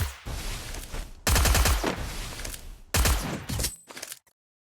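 Gunfire from the Free Fire mobile game comes in loud, close rapid-fire bursts with short pauses between them, ending in sudden silence.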